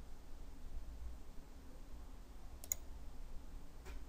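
A computer mouse clicks twice during CAD modelling work, each click a faint, sharp tick over a low steady hiss in a quiet room.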